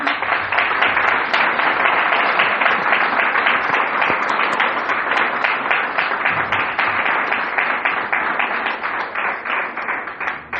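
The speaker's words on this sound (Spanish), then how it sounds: "¿Le das un fuerte aplauso?" A crowd at a church service applauds steadily, dense clapping sustained throughout, loud and close, tapering slightly toward the end.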